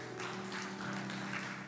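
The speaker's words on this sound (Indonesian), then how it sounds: "Beri kasih tepuk tangan buat Tuhan kita." Church congregation claps during a sermon, a soft, continuous patter of hands heard faintly for under two seconds with a low hum of instruments or room tone underneath.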